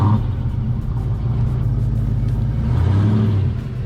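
A Ford Mustang Fox body convertible pulling away, its engine giving a continuous low rumble with a slight rise in revs near the end, fairly close and loud throughout.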